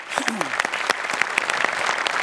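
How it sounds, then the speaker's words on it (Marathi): A studio audience at a Marathi comedy show applauds with loud, sustained clapping; a brief voice is heard at the start before the clapping fills the rest. "त्यांच्यासाठी जोरदार टाळ्या."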